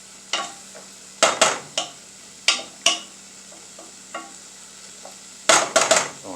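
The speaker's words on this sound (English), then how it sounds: "I'm going to stir fry, let everything get nice and mixed." Puerto Rican beans with vegetables and ham stir-fried in a pan: a soft background sizzle punctuated by about a dozen sharp scraping and clanking spoon strokes, irregularly spaced and close.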